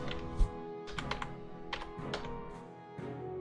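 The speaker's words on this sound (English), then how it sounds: "Let's just try pressing some keys here." Computer keyboard keys pressed in short clustered bursts of clicks and taps during PC game play, fairly close and moderately loud over a steady background hum, with no talking.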